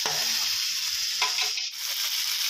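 Chicken pieces are stir-fried and turned in a pan for chicken stewed with soybean paste, a continuous close sizzle with a few scraping touches and a brief dip in the frying noise partway through.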